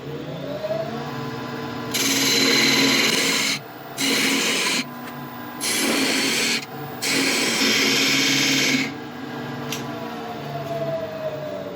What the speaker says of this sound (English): I'm going to cut in from the sides to widen up this area